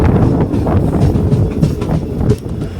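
Passenger train rumbling at a railway station platform on the Madurai to Karaikudi route, a loud, close, low continuous roar of the engine and carriages with rattling and some wind buffeting on the microphone.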